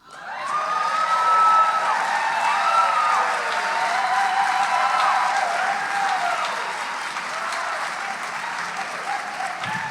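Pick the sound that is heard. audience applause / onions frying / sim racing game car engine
audience applause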